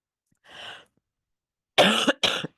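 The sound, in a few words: cough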